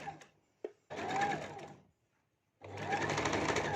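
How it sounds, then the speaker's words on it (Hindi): Sewing machine hemming a long panel frock, running in two bursts of rapid, close mechanical stitching about a second each, separated by short pauses and a small click. "यहाँ पर मैं इसको मशीन के ऊपर ही तुरपाई कर रही हूँ।"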